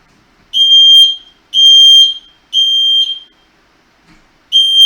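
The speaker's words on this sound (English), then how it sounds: "Smoke alarm." Indoor smoke alarm blaring loud, piercing beeps in a steady rhythm of four long blasts with short gaps between, with nothing else heard.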